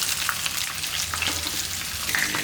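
Karimeen fish frying in oil in a pan makes a dense, steady sizzle with crackling pops close by and no talk.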